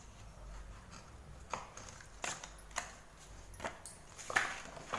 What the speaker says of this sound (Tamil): இப்போ இந்த மாதிரி கட் பண்ணி எடுத்துக்கணும்